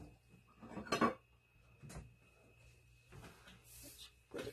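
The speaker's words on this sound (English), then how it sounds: "Let me grab a plate." A plate is picked up in a home kitchen, with a clear clatter of dishware and a few lighter clinks and knocks around it, close and brief.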